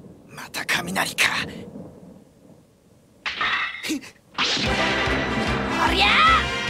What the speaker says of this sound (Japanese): また雷か。